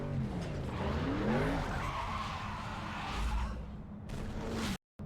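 A Pontiac GTO 5.7L V8 in Need for Speed Underground 2 makes a loud, continuous engine roar on a drag test run, with rising and falling revs and tire squeal, then cuts briefly to silence near the end.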